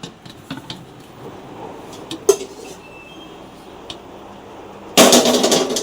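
Pots and pans clink and knock softly as they are handled in a home kitchen during evening cooking, with scattered light taps followed by a louder, dense burst of clattering near the end.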